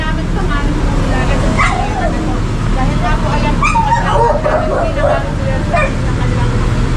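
A dog gives a few short barks and yips in the middle distance amid steady street noise and traffic rumble.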